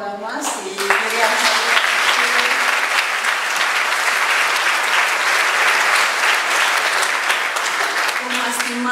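Audience at a Greek book presentation breaks into sustained applause, a dense, loud wash of clapping that swells after a brief start and holds steady for several seconds, with faint voices underneath.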